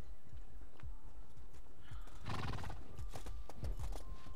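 A horse in the medieval combat game War of the Roses gallops with a steady rhythmic clip-clop of hooves, and a loud whinny rises midway over the hoofbeats.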